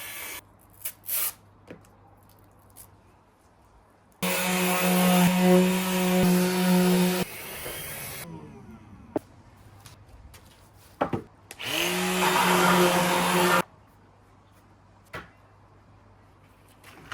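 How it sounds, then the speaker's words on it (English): A power sander works the sides of a wooden behind-couch table, running in two loud sustained bursts of several seconds each, separated by quieter handling knocks and clicks. "So I had to sand down the sides."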